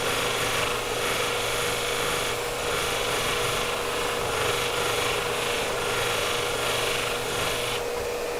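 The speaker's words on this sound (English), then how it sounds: "So now I'm going to polish." Hanzo hair shears are polished on a polishing plate, producing a quiet, continuous abrasive rasping hiss that carries on evenly throughout with no speech.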